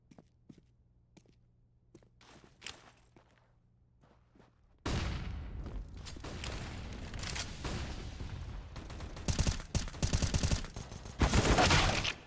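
USP pistol fire in a Counter-Strike match, with sparse faint shots and footsteps giving way to a loud stretch of repeated gunshots and clatter.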